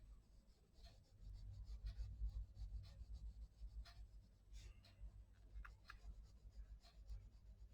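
A brown pencil colors on smooth, good-quality paper in a steady, faint scratching rub, with repeated short strokes continuing under low background noise.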